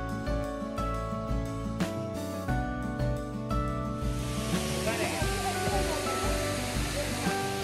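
Bee Falls waterfall at Pachmarhi, a steady broadband rush of falling water close by, with a musical backing over the first half before the roar of water takes over.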